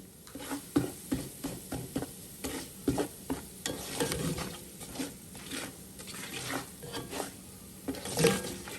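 Potatoes tossed with added spices in a pan for khattay aloo, a series of rhythmic scraping stirs over a faint sizzle, close and fairly quiet, with no talking.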